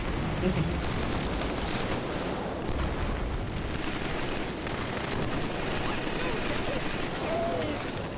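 Rapid bursts of automatic gunfire and scattered shots in the Killzone 3 first-person shooter, crackling continuously at moderate volume beneath game ambience.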